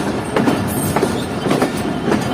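Karakoram Express passenger train running after leaving Hyderabad station, a loud, steady rumble with repeated clickety-clack wheel beats throughout.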